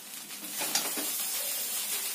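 Fried peanuts tossed into a pan of kande pohe and stirred, a soft scraping and faint sizzle running steadily close by, with one brief clink partway through.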